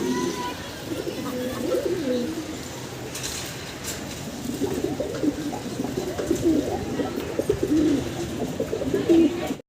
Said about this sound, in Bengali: দেখেন কি অ্যাক্টিভিটি, একদম ডাকাডাকিতে ব্যস্ত